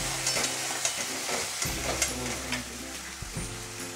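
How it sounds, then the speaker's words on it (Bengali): Manchurian gravy with turmeric, salt and a little sugar sizzles steadily in a pan for a restaurant-style veg dish. A low hum runs underneath, with a few soft stirring scrapes and clicks throughout. "দিয়ে এটা ভাজা ভাজা করতে হবে"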